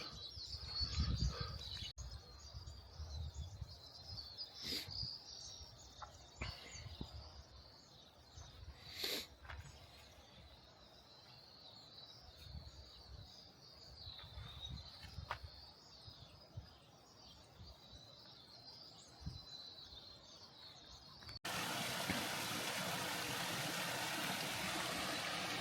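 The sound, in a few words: birds at a feeder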